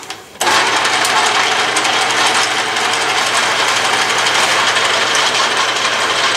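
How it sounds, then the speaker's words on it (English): Atlas metal lathe running with the carriage under power feed starts abruptly and settles into a loud, steady mechanical whir with a fine rapid gear chatter, close by and continuous. "The carriage is now moving as soon as the backlash is taken up. Towards the headstock at a very slow rate."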